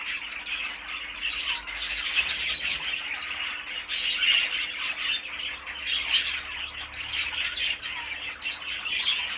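A young pigeon chick in molt, between barhead and young bird, squawks in repeated harsh bursts, loud and close, with short gaps and a faint steady hum behind.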